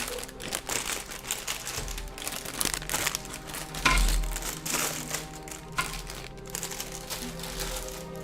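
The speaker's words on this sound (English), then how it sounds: "Sorry for the crinkling sounds that you're about to endure for the next 10 seconds." Plastic bags crinkle and rustle continuously up close, a busy, uneven crackling texture at low volume with no talking.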